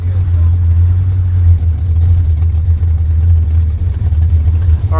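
The Munster Mobile, a custom car on a Route 66 cruise, rumbles with a deep, loud engine drone that holds steady as it drives off, with a voice talking over it.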